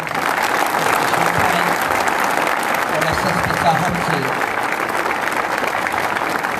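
Loud, steady applause fills a hall as an audience welcomes a police training official, dense continuous clapping under a voice on a microphone.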